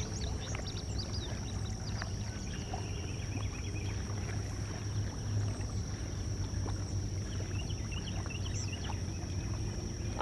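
Retriever dog swimming through water during a cold-weather blind retrieve, soft continuous splashing and paddling with wind and faint distant bird calls in the background.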